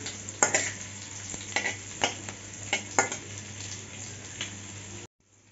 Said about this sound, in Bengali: গোটা জিরা ফোড়নে দিচ্ছি। ভালো করে গোটা জিরাটা ভেজে নেব।